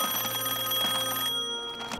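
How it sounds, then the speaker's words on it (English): A telephone rings in a SpongeBob cartoon, a bright electronic trill with rapid repeated pulses that stops partway, then briefly returns, loud and alone. "out of the blue, the phone rings"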